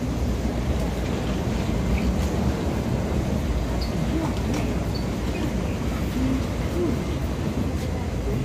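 A passenger train riding through Taiwan gives a steady, dense rumble and rattle throughout, with voices talking faintly inside the carriage.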